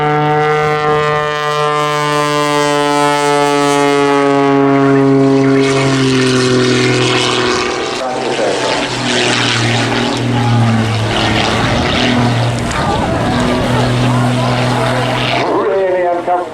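A Pitts Special aerobatic biplane flies past over a seaside pier, its propeller engine droning loudly with a pitch that falls as it goes by, while a commentator talks over it.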